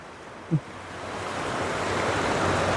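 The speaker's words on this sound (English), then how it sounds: "it's a lot of water, a lot of debris still down through here." Rushing water pours down a flood-damaged canyon near Monroe, Utah, a steady broadband roar that swells gradually louder, mixed with wind buffeting the microphone and a brief low thump early on.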